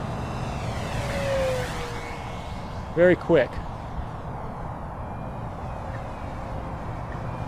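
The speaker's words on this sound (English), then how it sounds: "I'll go ahead and give it full throttle right down the runway here." An FMS P-40B 980mm RC warbird goes to full throttle down a runway, its steady engine whine rising briefly and then holding under outdoor ambience, with a quick spoken remark partway through.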